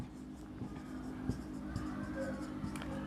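Pen or chalk strokes scratch out a chemistry formula in short, uneven bursts during a Hindi class lecture on states of matter, close and fairly quiet, with faint voice murmurs underneath.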